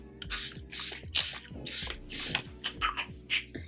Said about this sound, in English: I'm using the Charlotte Tilbury setting spray.